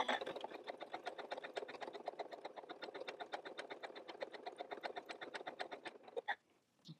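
A Janome MC9450 sewing machine stitches a wide zigzag in a rapid, even stream of mechanical needle taps for about six seconds, then stops abruptly.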